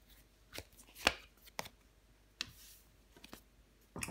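Tarot cards handled on a table during a reading, giving a handful of sharp separate snaps and slaps spaced irregularly over a few seconds, close and fairly quiet with no talking.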